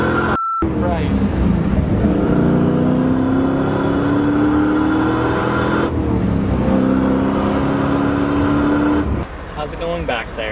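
LS-swapped BMW E30 pulling hard on a highway, a loud, close V8 roar rising in pitch through two long acceleration pulls with a gear change between them, easing off at the end as people talk over it.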